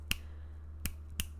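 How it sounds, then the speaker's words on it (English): Three sharp finger snaps, one early and two close together near the end, crisp and near against a quiet, low background hum. "I can snap my fingers."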